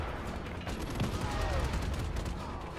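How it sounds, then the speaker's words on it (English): Video game gunfire in Just Cause 3 crackles in rapid bursts of shots under a steady noisy game backdrop, with a faint whine passing through. "Oh, I see that gunfire."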